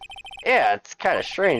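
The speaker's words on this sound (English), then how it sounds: "I heard a phone ring just now." In the Phoenix Wright: Ace Attorney video game, a phone ringtone plays as a rapid series of short electronic chirps at the start, then gives way to someone speaking.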